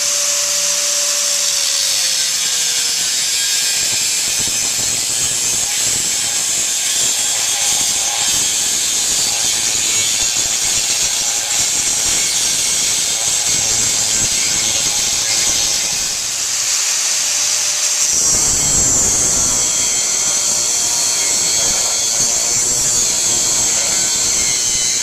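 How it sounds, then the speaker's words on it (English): A power cutting tool grinds around the perimeter of a Harley-Davidson Sportster gas tank shell near the bottom pinch weld, a loud, continuous high-pitched whine and hiss that shifts pitch midway, with no talking. "cutting around the perimeter of the tank as close to the bottom pinch weld as possible to separate the bottom"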